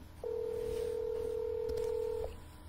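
A single long, steady telephone dialing tone holds for about two seconds at even loudness, then cuts off, with a faint background hum and no talk.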